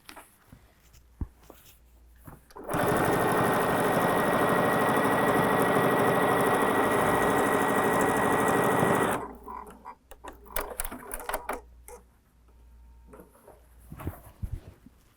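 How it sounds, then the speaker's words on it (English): A sewing machine stitches the final seam of a tote bag in one loud, continuous run of about six seconds. It starts after quiet handling noises and is followed by scattered clicks and fabric rustling. "I'll get that last little seam done, and that's the last seam on the bag"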